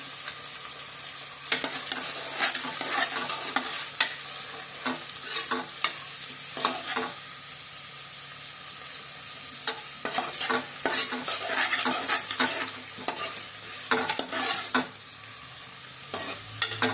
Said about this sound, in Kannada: ಆಗ ಈರುಳ್ಳಿ ಸ್ವಲ್ಪ ಫ್ರೈ ಆಗೈತ್ರಿ, ಇನ್ನು ಸ್ವಲ್ಪ ಫ್ರೈ ಆಗಬೇಕು.